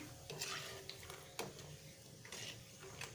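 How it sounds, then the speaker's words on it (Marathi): Peanuts frying in hot oil for a sabudana chivda, giving a steady, quiet sizzle with scattered light crackles and a few sharp clinks of a utensil against the pan. "अशा प्रकारे आपण शेंगदाणे तळून घेणार आहोत"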